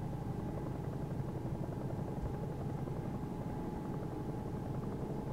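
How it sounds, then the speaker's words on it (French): Helicopter in the X-Plane 2021 flight simulator spooling up and starting to lift off, a steady loud rotor and turbine drone with a dense low thrum that holds evenly throughout. "Ah, il commence à bouger l'hélico."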